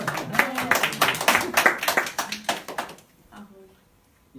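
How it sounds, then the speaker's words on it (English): Audience applauding the organizers of the CGE open day: dense, close clapping for about three seconds with a voice over it, then it stops and a quieter voice follows. "Let's applause for them"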